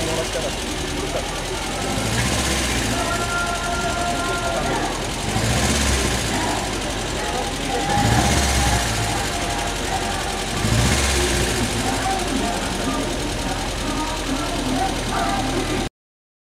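A Volvo Amazon's 1.8-litre inline-four engine idles steadily with a low, even rumble and faint mechanical ticking at an outdoor car show, while people chat nearby now and then.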